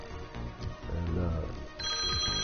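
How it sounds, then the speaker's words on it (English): A telephone rings with an incoming call, a short electronic ringtone rising out of a quiet room, fairly close and alone. "I got a phone call"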